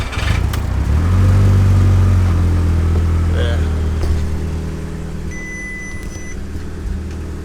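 A car engine at cold start after a runner flap delete, idling roughly with a loud, low rumble that swells early and then settles, with brief clicks and noises around it.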